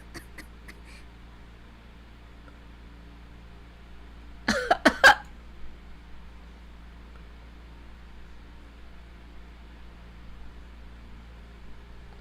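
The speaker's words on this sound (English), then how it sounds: "Stepping 1 foot inside is enough to make the both of us cough up a storm." Two people cough from stirred-up dust in a dark shed in a visual novel game, a brief cluster of sharp, close coughs midway through an otherwise quiet stretch with faint background hum.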